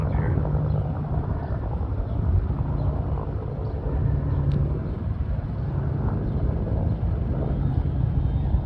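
Steady drone of an aircraft flying over a wildfire near Bear Mountain in Big Bear, a continuous engine hum heard from a distance without pause.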